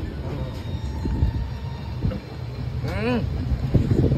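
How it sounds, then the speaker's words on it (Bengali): Inside a moving night train, a dense rumble and rattle of the carriage run continuously, with a brief squealing whine partway through and voices talking in the background. "একদিকে ট্রেন চলছে"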